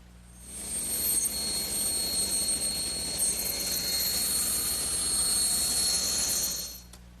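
A power saw rips the excess off a length of wood molding for a Chippendale mirror frame, a steady loud whining cut running continuously for about six seconds before stopping.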